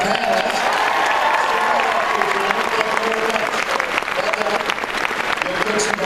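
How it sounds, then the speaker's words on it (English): A convention hall crowd at Phoenix Comicon 2014 gives steady, dense applause for the panelists, loud and sustained throughout with no break. "Applause for our panelists."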